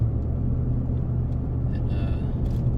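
A car driving along a road toward the boneyards, a steady low rumble of engine and tyre noise from inside the cabin, continuous and fairly loud, with a faint brief squeal near the end.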